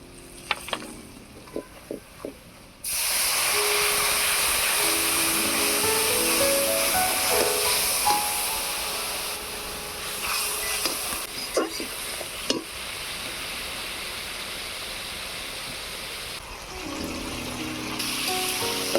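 Ground cumin, coriander, chili and Kashmiri chili powder fry in hot oil, giving a loud, steady sizzle and hiss after a few clinks, with scattered pops and scrapes.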